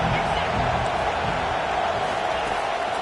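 A stadium crowd in an American football video game keeps up a steady roar of noise during a big third down, under a voice talking.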